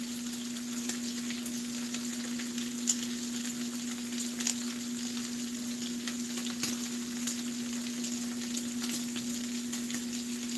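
Bacon frying in a pan, a steady, even sizzle and crackle with scattered small pops, constant and fairly quiet throughout, with a low hum beneath.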